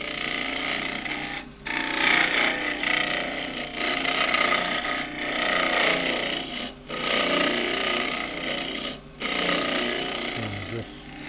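Gouge cutting green elm on a wood lathe, a steady close rasping and scraping that runs in long sustained passes with a few brief breaks, while someone talks over it.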